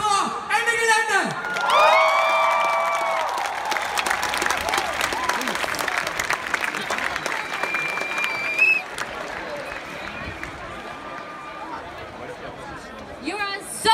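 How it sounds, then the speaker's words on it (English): Thousands of climate strike marchers in Aachen burst into sustained applause with cheers and whoops, a dense, loud crowd roar holding steady throughout, with a few voices shouting over it. "So, a big applause for Ende Gelände."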